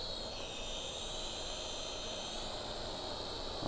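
A Syma X5UW quadcopter drone flies and climbs, its small rotors giving a steady high-pitched whine that holds at an even level throughout, with a slight rise at the end.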